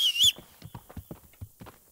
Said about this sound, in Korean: 이 휘파람 소리는